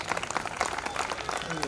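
An audience at an ex-servicemen's welfare association event applauds, a dense wash of clapping with crowd voices mixed in.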